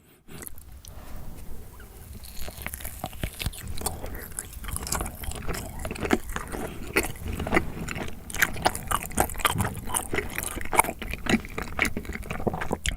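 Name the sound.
eating half-frozen Melona-flavored rice cake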